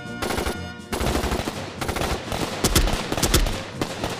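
Machine gun fire in a war drama battle scene: dense, continuous rattling bursts with sharper, louder cracks toward the end, loud and close with no talking.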